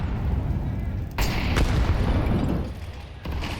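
Grenade blasts and booming gunfire from Counter-Strike during the IEM Melbourne 2025 grand final, Falcons versus Vitality, a steady loud wash of bursts with sharp onsets near 1.2 and 3.2 seconds, mixed under caster commentary.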